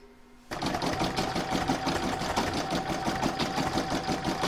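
An embroidery machine stitches a quilting round on a fabric bauble design, starting abruptly and then running as a steady, close, rapid mechanical rattle with a faint whine throughout.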